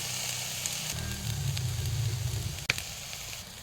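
Potatoes being mixed in a wok with oil, turmeric, chili powder, salt, ginger, garlic and cumin paste, a low continuous sizzle and rumble with a sharp clatter near the end, close by, no voices.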